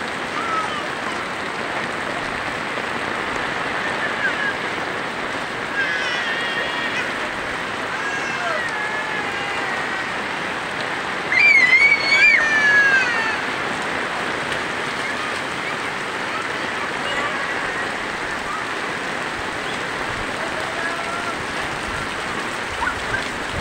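Steady heavy rain pours down continuously in Bulan, Sorsogon, Philippines, a dense hiss with a brief louder patch midway and faint tonal sounds in the background.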